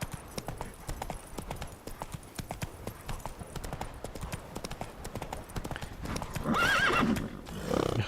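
Roach the horse in The Witcher video game, hooves clip-clopping in a quick steady rhythm close by, ending in a loud whinny near the end.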